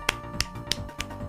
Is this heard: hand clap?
yes